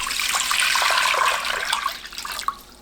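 Two liters of water pouring into a cooking pot, a bright, close splashing rush that lasts about two seconds and then fades with a few trailing drips.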